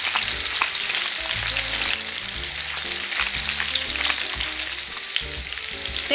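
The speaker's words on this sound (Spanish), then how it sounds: "Quiero sellarla por ambos lados." Pork loin medallions sear in a hot frying pan, a loud, continuous sizzle and crackle close by, slightly easing after a couple of seconds, with no one talking.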